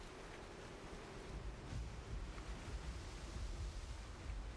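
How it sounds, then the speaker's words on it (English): Ocean tide and waves wash onto a beach in a faint, continuous, noisy surge with gentle swells and no voices. "As you can hear the tide and the waves."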